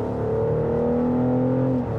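A 2024 BMW X6 xDrive40i with an 8-speed automatic pulls under steady throttle, its engine holding a smooth, sustained mid-range hum with rising harmonics, close and continuous with no talk.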